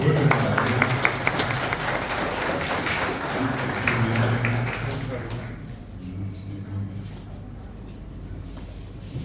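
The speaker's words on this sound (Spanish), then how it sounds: "Un aplauso fuerte para ella." Applause from a crowd at a graduation celebration, loud and continuous at first, fading out partway through, with voices talking under it.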